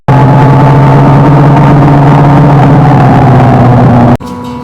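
On a Kenyan highway, a motorcycle rider's engine drones loud and steady under rushing wind as an incoming truck passes close by, then the roar cuts off abruptly near the end.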